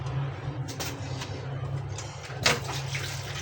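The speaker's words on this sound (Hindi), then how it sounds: "चलिए जी, अभी इसमें भी पानी ऐड करते हैं" Water pours steadily into a cooking pot of turnip and spinach, a continuous splashing rush with a brief louder splash near the end, heard alone.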